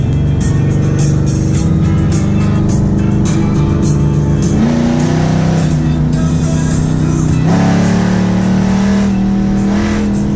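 A 1955 Chevy Nomad fitted with an LS3 V8 runs with its exhaust open, giving a loud, close, continuous engine roar whose pitch climbs and shifts as the car accelerates through the gears.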